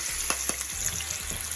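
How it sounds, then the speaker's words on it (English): Oxtails sizzling steadily in hot oil, a bright constant crackle close up with a few soft clinks of a utensil stirring. "See that sizzle?"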